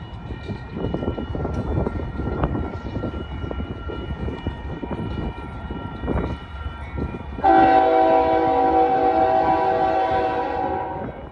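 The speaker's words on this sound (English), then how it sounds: "Here comes the UP Intermodal." A Union Pacific intermodal freight train rumbles past on Donner Pass, steady wheel and car clatter close by, then a loud sustained multi-tone horn blast that lasts several seconds, no voices.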